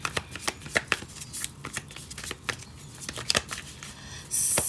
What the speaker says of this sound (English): going to get one more card on the top row